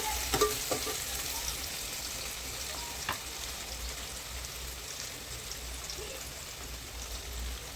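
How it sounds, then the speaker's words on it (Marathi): Onions fry in hot oil in a pan, giving a steady, soft sizzle with a few faint stirring clicks and no voices throughout. "कांद्याला थोडं लाल होईपर्यंत फ्राय करते।"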